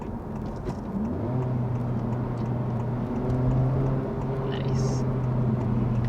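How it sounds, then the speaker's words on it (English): A 2023 Honda Civic Type R engine blips and rises in pitch during a downshift with rev matching, a droning engine note heard from inside the cabin while a person briefly speaks. "as you can tell by that, we do have downshift rev matching on this Civic Type R"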